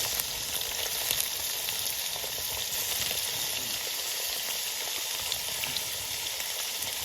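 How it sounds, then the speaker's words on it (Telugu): Boiled chicken livers fry in hot oil outdoors, giving a steady, dense sizzle and crackle that holds at an even level throughout. "ముందు మనం ఉడకబెట్టుకున్న ఈ లివర్లు ఇవన్నీ దాంట్లో వేసేయాలి"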